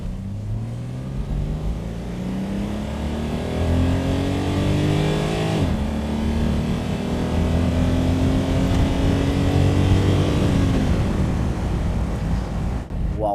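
A 1967 Mercedes 250SL with a 2.5-litre six-cylinder engine accelerates hard, its rising rev pitch climbing through a gear, a quick upshift, then climbing again, loud and sustained throughout.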